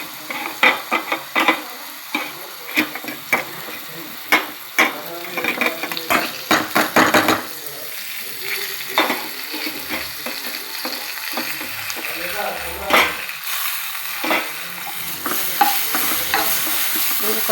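Grated mango with turmeric being stirred and fried in a pan, a steady sizzle under repeated scraping strokes of a spoon against the metal, close and fairly loud.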